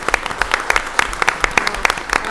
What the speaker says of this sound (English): I want to give her a very big round of applause for her efforts